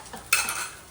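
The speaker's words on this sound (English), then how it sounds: "I'm going to get me a fork, and I'm going to whisk up my eggs" A fork whisks eggs in a bowl for scrambling, a brief burst of fast scraping clatter that starts abruptly partway through and keeps going steadily, close and moderately loud, with no talking.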